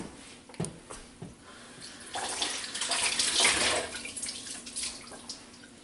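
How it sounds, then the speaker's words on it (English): Tap water runs into a kitchen sink, a steady broadband rush that swells louder in the middle and eases off, with a few clinks and knocks at the start and no talking. "If you hear a funny noise over there in the sink when I'm running water"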